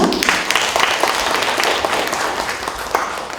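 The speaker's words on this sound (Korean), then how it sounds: "박수 부탁드립니다" An audience applauds a city mayor at a Paju library 30th-anniversary policy concert, dense, even clapping filling the hall for a few seconds without talk.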